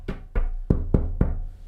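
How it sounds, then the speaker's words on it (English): Five firm knocks on a door sound in a steady, evenly spaced rhythm, each a sharp, close, resonant thud with no voices. "if you knock on a door, what you definitely don't want to do is knock softly"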